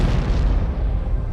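A deep, rumbling boom of a major industrial explosion in the Nevada desert, with a dense low roar that fills the whole moment and slowly fades.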